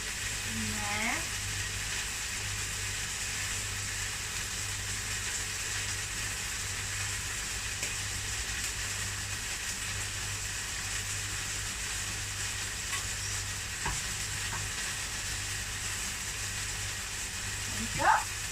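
Vegetables sizzling as they fry in a pan, a steady, broadband hiss that holds evenly throughout, with a few faint stirring scrapes and brief voice-like sounds near the start and end.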